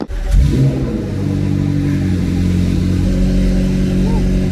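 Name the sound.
McLaren Senna engine revving, titanium straight exhaust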